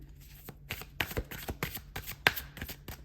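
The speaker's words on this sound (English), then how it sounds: "the cards are for some reason requiring extra shuffle today" Tarot cards are shuffled by hand nearby, a quiet series of soft riffling flicks and taps in an irregular rhythm, with no talking.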